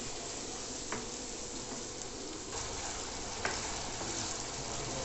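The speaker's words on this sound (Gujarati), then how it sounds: "અને આપણે 5-1 મિનિટ સુધી સાંતળીશું" Paneer sautés in a pan for paneer tikka masala until golden brown, giving a steady, soft sizzle. A few faint clicks and taps break the sizzle.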